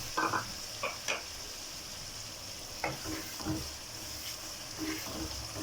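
Kadhi masala being stirred while it fries in a pot, with soft scraping strokes and a steady low sizzle, several distinct stirring bursts spaced through a quiet kitchen.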